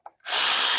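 A battery impact gun runs on car engine bolts during a wet timing belt change on a Ford Focus EcoBoost, starting with a brief click and then going into a loud, close, sustained whirring burst.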